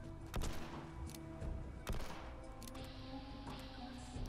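Sharp gunshots from a bloodied explosive single action revolver in Fallout 76, about six separate reports spread across the clip, fairly quiet overall with a steady low hum underneath.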